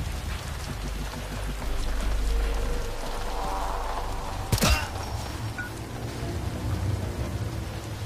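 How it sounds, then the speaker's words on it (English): Steady rain patters and splashes on surfaces in a tactical shooter video game, a constant hiss with a short sharp crack partway through; no talk over it. "This rain is really realistic. It's freaking splashing on the stuff it's hitting."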